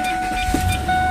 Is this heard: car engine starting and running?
yes